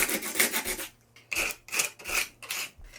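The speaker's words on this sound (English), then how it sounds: "wanted to check whether this is going to sand, because I'm using modelling paste as well in that." Dried modelling paste on a textured flower being sanded, giving repeated close, dry rasping strokes in an uneven back-and-forth rhythm with brief pauses between passes.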